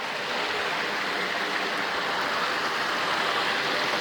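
Water flows steadily through a narrow section of a creek, a loud, even rushing wash that stays constant from start to finish.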